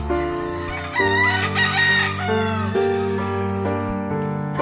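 A wild jungle fowl crows loudly and close on a farm, a long strained rooster-like call with harmonic overtones, repeated over a steady background.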